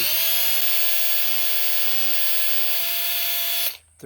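Power drill boring through a wooden slat into a 2x4 beneath, a steady high-pitched whine held close and loud for several seconds before it cuts off abruptly near the end.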